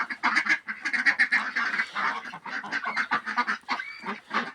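Ducks in a Ukrainian farmyard, freshly washed and clean, quack and honk continuously in a busy overlapping chorus, close and loud throughout with no talking.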